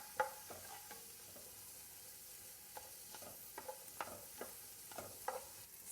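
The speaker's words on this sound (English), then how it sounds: "You always stir them up to coat them with the ghee" Onions sizzle quietly in hot ghee while a spoon stirs them, with soft scraping strokes and small clicks rising over a low, even frying hiss.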